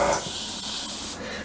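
An airbrush or spray can hisses as paint is sprayed onto an M551 Sheridan scale model, a close, continuous sharp hiss that cuts off abruptly near the end, with no talking.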